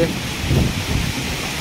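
Heavy rain pours steadily over a Kalahandi region during a storm with thunder and wind, a dense continuous wash with a low rumble swelling midway, while a voice talks faintly underneath.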